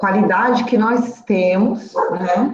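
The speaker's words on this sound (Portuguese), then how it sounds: "desculpa o cachorro latindo aqui" A house dog barks several times in the background while a person keeps talking in Portuguese over it.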